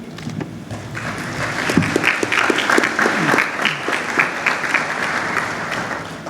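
Audience applause welcoming the Alumni Association president onstage at an evening sunset ceremony honoring William and Mary members, a steady, full round of clapping from a crowd that swells after the first second and holds through to the end.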